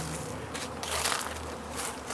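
Bees buzzing around a cluster of active beehives, a steady close swarm hum with rising and falling waves of individual insects passing near, no talk.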